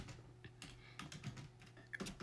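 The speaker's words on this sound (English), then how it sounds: "And they heard some typing." Rapid keyboard typing, a quick irregular run of sharp clicks with a few louder strokes, heard up close and alone with a faint steady hum underneath.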